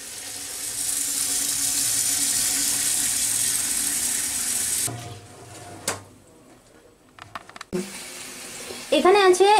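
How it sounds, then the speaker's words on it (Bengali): Running tap water pours steadily as biryani rice is rinsed in a kitchen sink for about five seconds, followed by quieter clinks and handling noises from pots and utensils. "তো চালটাকে আমি এখন ধুয়ে নেব"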